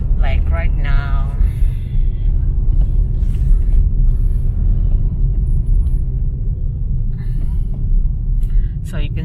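A car engine rumbles loud and close throughout while overtaking on a road in Barili, Cebu; a voice is briefly audible near the start over the steady drone.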